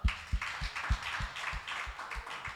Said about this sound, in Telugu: చప్పట్లు కొట్టండి ఇప్పుడు.